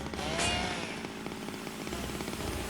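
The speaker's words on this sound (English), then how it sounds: "Do stealth mode with the chainsaw." Chainsaw engine revving in the Zero Time Dilemma video game, a steady buzzing, rattling drone that stays fairly quiet and continuous throughout with no speech over it.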